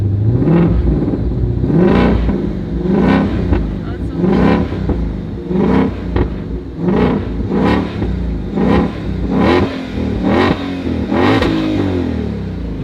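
A 2020 Ford Mustang Shelby GT500 engine revs repeatedly in short, loud bursts, roughly one per second, each rising and falling over a steady idle rumble nearby.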